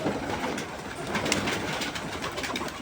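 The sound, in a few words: Madras pigeon cooing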